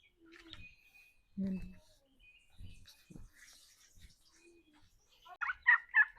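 Turkeys gobble in a few scattered calls, then a louder burst of rapid gobbling near the end, with faint voices in between.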